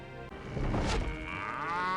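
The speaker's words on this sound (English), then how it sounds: "there's a cow" A cow moos in The Journeyman Project video game, a single loud drawn-out bellow that rises and falls, heard close and alone with no talking.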